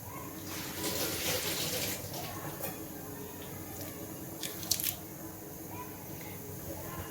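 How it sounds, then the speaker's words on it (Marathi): Stored vegetables are rinsed clean under a running kitchen tap, with splashing, squishing water and occasional handling clatter, close and fairly quiet. "हे स्वच्छ धुवून घेऊया आधी आपण."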